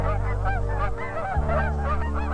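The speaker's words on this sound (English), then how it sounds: "Geese returning north." A flock of geese honks repeatedly in a nature film, overlapping nasal calls over a steady low drone, fairly close and continuous for a couple of seconds.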